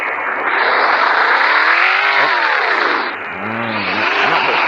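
A car engine in the Roblox game Drovers League revs steadily and loudly, its pitch rising and falling with a brief dip midway before building again, with no talk over it.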